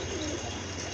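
Pigeons at a loft coo steadily in a brief, close, continuous low murmur.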